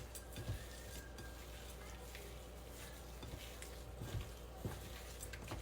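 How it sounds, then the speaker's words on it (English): Soft, steady sizzle of hash brown cheeseburger patties frying in a skillet, faint and continuous with a few light clicks and taps scattered through it. "I'm just going to cook these in the skillet"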